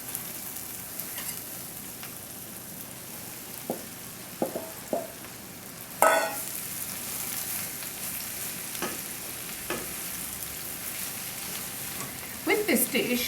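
Peppers dropped into a hot pan for pipérade, a sudden burst of sizzling that settles into steady frying with occasional stirring scrapes and clinks, close and moderately loud.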